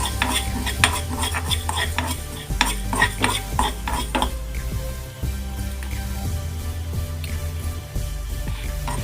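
Fenugreek seeds are dry-roasted in a pan without oil and stirred with a spoon, giving repeated scraping, rattling and knocking strokes against the metal, close and fairly loud without speech.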